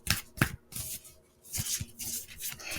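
Tarot cards are shuffled and drawn by hand in a few close, crisp riffling bursts separated by brief pauses, with no talking.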